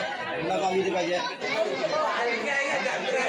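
Steady crowd chatter fills a Karanjai Mauli palkhi procession, many overlapping voices murmuring and calling out close by without a break through the whole stretch.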